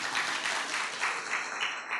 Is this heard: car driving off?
no